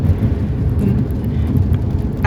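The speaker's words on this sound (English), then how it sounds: "Let me turn my windshield wipers on. Still raining." Rain falls on a car while driving, with windshield wipers running: a loud, steady low rumble and hiss with faint rhythmic ticks on top, and no voices.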